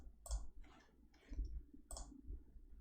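Keys are pressed on a CAS calculator, four or five soft, close plastic clicks spaced unevenly across a quiet background.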